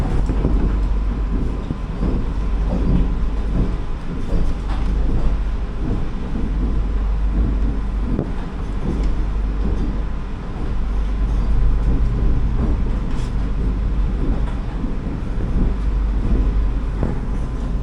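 Vande Bharat Express train rolling into platform 1 on the Kasaragod–Thiruvananthapuram run, a loud, steady low rumble of wheels and carriages that continues without a break and with no talking.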